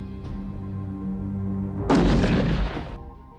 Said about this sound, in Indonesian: Priest lebih dulu menembaknya.